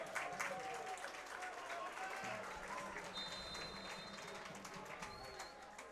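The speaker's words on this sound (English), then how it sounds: "give the Carolina RailHawks faithful a round of applause" Stadium crowd at a Carolina RailHawks U.S. Open Cup soccer match applauding a player leaving the field, a distant, diffuse wash of clapping and crowd noise beneath a commentator's voice, with faint bird calls mixed in.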